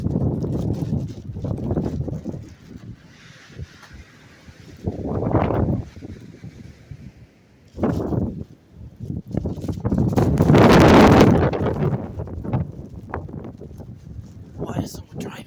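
Fierce blizzard wind with 75 mph gusts in Massachusetts buffets loudly in surging bursts, rising and falling over the whole stretch while voices talk underneath.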